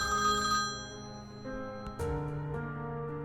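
A telephone rings indoors with repeated electronic bell tones, loud and close, with no talking over it.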